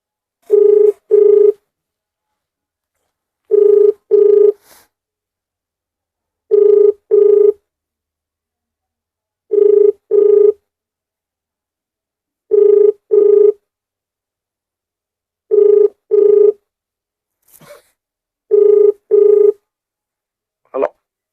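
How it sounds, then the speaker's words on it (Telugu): A ringback tone on an outgoing phone call to a police station in Anantapur: paired rings repeat about every three seconds, seven times in clear succession. A brief faint blip falls between the last pairs, with no talking. "ఒకసారి ఫోన్ చేసి అడుగుదాం"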